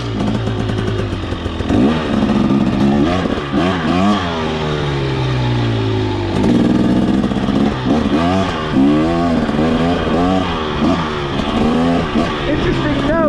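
A 2023 KTM 300XC two-stroke dirt bike running close by, its engine revving up and down in repeated sweeping surges with a rough, clattering tone, loud and continuous, with a voice talking over it at times.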